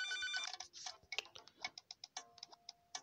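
In the Papa's Sushiria To Go cooking game, a faint electronic phone ring chimes at the start, followed by a quiet series of short clicking ticks.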